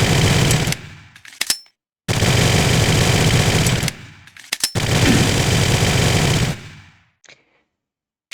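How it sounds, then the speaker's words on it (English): Uzi submachine gun in Soldier of Fortune II firing three long, rapid full-auto bursts, loud and close, separated by short gaps with faint mechanical clicks between them. "the Uzi now fires a little bit faster than it did in the original game"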